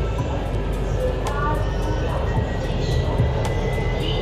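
An Orange Line metro train running in Lahore, heard from inside as a steady, loud rumble and hum of the moving carriage, with a few brief squeaks and rattles and voices murmuring beneath it.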